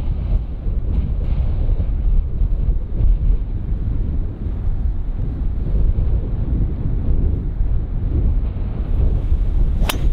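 Steady wind roars and buffets the microphone across an open seaside links golf course in North Devon, a continuous low rumble with gusty swells and no talking.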